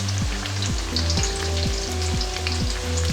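Onion and potato bhajis (pakoras) frying in hot oil as they are turned, a steady close sizzle broken by a few soft scraping pokes, with no voices.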